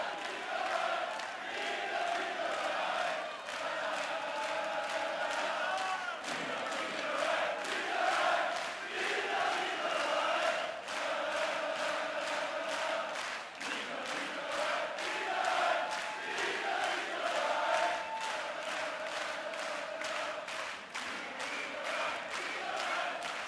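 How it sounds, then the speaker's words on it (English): A large arena crowd at the Austrian Darts Open roars and chants steadily throughout, a dense sustained wall of cheering with rhythmic swells and no clear breaks. "Amazing crowd."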